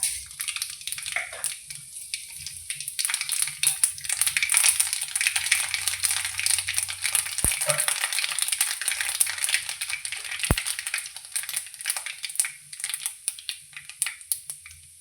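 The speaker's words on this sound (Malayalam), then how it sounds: "എണ്ണ ചൂടായി വന്നിട്ടുണ്ട് കേട്ടോ ഇത് പപ്പടം കാച്ചിയ എണ്ണയാണ് ഇതിലേക്ക് ഇതാ ഉരുവ കടുക് അത് ഇട്ട് കൊടുക്കുക" Mustard seeds dropped into hot oil previously used for frying pappadam crackle and splutter in a dense, continuous spray of small pops, with a couple of sharper clicks, close by and with no talking.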